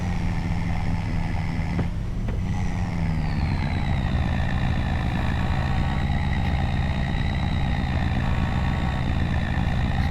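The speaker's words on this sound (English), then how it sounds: "You can listen to the satisfying sound of the truck shifting its gears." A truck drives along a quiet country road toward a farm, its engine rumbling steadily and loudly up close, with a brief shift in engine pitch as it changes gears early on.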